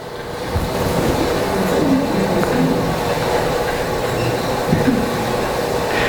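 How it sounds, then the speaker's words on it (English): A train running on the Gotthard mountain railway rumbles continuously from inside a carriage, with steady rolling roar, faint rail clicks and occasional wheel squeals at fairly loud level. "while we're riding on this train"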